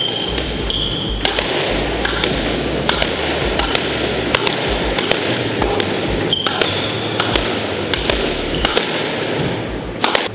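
Ashaway Powerkill Meta ZX squash racket striking balls on a squash court, a rapid series of sharp cracks and thuds echoing in the enclosed court, a dozen or more hits at an irregular rally rhythm, no talk.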